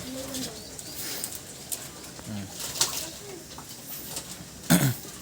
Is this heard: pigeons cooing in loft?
yes